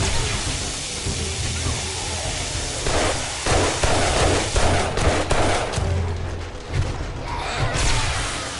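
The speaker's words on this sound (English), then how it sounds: "them turrets are going to town" Automatic turrets in the 7 Days to Die video game fire in a steady dense rattle, loud and continuous over a hissing, rumbling background, with volleys swelling midway.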